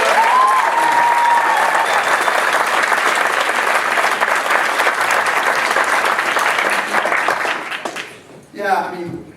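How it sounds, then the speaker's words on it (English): The audience at a New Bern Civic Theater volunteer gala gives a long, loud round of applause with dense, steady clapping and a few cheers, fading out before a voice speaks at the end. "How about a round of applause for our volunteers?"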